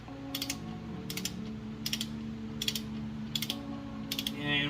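Ratchet torque wrench clicking in repeated bursts while flywheel bolts are tightened to 19 foot-pounds on a Honda H22 engine during a clutch install, six short ratcheting runs over a steady low hum.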